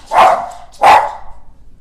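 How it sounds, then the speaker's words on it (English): Two loud, close dog barks in quick succession, then a short quiet tail. "My dogs, the doorbell rang, so of course they have to tell the whole neighborhood."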